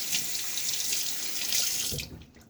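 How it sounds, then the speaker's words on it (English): Water runs from a tap to rinse a Gillette Tech safety razor, a steady close gush into a sink that cuts off near the end. "And so I'm going to give this a little rinse."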